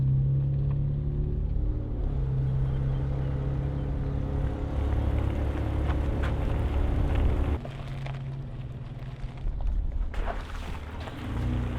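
Inside a restored Toyota Land Cruiser FJ80 while driving, a loud, steady low engine and road rumble fills the cab, easing briefly before building again.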